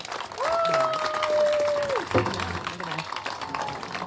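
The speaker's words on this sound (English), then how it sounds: "Let's give them a big round of applause." Applause from a live show audience, moderate and steady for a few seconds, with cheering voices over it and a sustained tonal whistle or feedback-like note partway through.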